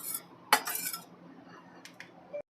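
Metal pan and utensils clatter on a kitchen stove while making panjiri prasad, with a sharp clank, a short rattle, then a few light clinks and a final scrape, close and alone.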